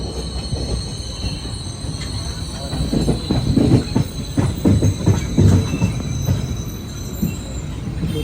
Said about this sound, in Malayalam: ഇവിടെ ട്രെയിൻ പോകുക 1-ാം നമ്പർ പ്ലാറ്റ്ഫോമിലേക്ക് തന്നെയാണ്